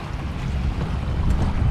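Strong wind buffets the microphone beside choppy water at Manila Bay's Dolomite Beach, a continuous, loud low roar with waves washing underneath and no talking.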